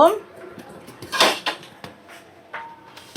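A lid set onto a cooking pot: a sharp metallic clatter near the middle, then a few lighter knocks, close and distinct, after a short burst of speech at the start.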